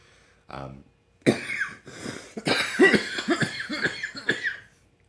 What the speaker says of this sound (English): Gross cough.